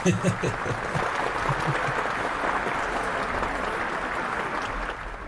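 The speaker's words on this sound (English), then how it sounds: "let's give you a round of applause" A studio audience claps for an arriving guest on a talk show, steady broadband applause holding evenly for about five seconds after a brief voice at the start.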